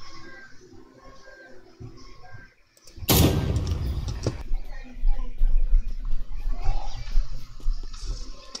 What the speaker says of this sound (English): Why is there fireworks?